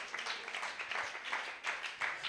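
A church congregation claps hands together during worship, heard as soft, rhythmic bursts of applause that rise and fall several times. The sound is faint and distant.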